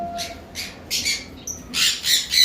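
A pair of pineapple conure parrots lets out a run of sharp, raspy squawks in bursts, close and fairly loud, with brief pauses between calls and no talk.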